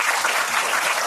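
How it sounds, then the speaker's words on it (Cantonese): Applause for a school principal at an anniversary gathering, a short, even burst of clapping from a seated group, fairly close and continuous with no voices over it. "陳慧華校長，我俾啲掌聲佢先"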